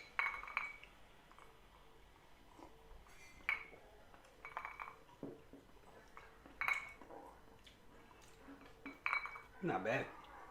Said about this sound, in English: Clink 'em and drink 'em.